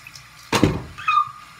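Hands being washed under a running tap: a short splash of water as the hands go under the stream, then a faint squeaky rinse, close and fairly loud with no talk.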